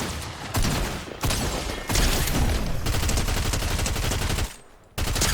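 Rapid automatic gunfire from a shooter video game rattles in dense, loud bursts with short pauses between them, with no talk over it.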